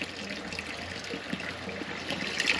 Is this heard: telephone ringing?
no